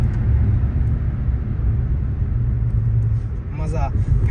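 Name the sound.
Kia Seltos diesel automatic car driving at speed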